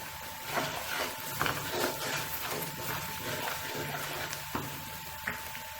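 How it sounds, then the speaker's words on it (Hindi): Spices and dal fry in ghee with a steady, close sizzle and crackle, accompanied by occasional stirring scrapes, continuous and moderately loud without speech. "और मैंने मज़ीद इसे भूनना है अच्छी तरह जब तक ये दोबारा घी किनारे तक ना आ जाए"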